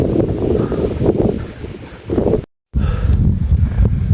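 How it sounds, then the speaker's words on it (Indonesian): Strong wind at Puncak Bayangan, a camp on Mount Penanggungan, buffets the microphone after rain. It makes a loud, low, gusting rumble that surges and eases, with one brief drop-out to silence midway. "Anginnya cukup kencang di sini."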